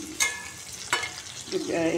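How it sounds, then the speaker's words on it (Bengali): Rohu and koi fish pieces frying in oil in a pan give a steady sizzle. Two sharp bursts, probably from stirring, break it, and a louder crackle builds toward the end. "কই মাছটা রুই মাছটা ভাজা হচ্ছে"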